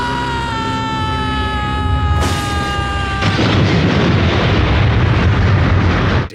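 A thrown snow globe sets off a loud, sustained movie explosion in the 1990 film Demon Wind, a heavy roaring blast over rumbling debris that lasts several seconds.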